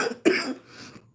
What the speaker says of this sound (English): I've been coughing a lot today